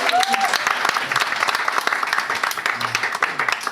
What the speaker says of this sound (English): And applause for Sigo as well, please.